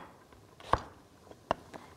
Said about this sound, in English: Okay, just gonna chop it like so.